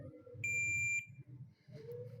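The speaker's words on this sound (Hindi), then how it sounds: "इनकी आपस में बीप की आवाज़ आनी चाहिए।" Multimeter continuity beep while testing the self-starter armature of a Suzuki GS motorcycle, one steady high tone lasting about half a second over a low background hum, close and clear.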